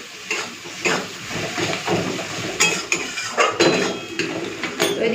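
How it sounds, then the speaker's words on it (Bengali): Spice paste being sautéed in a pan for a Bengali home-cooked dish, with repeated scraping and clinking of a spatula against metal at a steady stirring rhythm, close and fairly loud, with a faint sizzle underneath. "চলুন এরপরে মশলাটা কষে নিই।"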